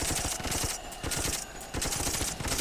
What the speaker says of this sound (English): you can actually take direct control of a turret just by pressing spacebar, and you can start shooting down the enemy